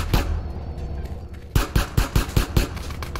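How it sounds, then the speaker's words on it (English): Dual-wielded pistols firing in the video game GTA San Andreas: a quick string of about six sharp, loud shots in a steady rhythm after an earlier single shot, over gameplay background noise. "Was that guy just dual wielding pistols?"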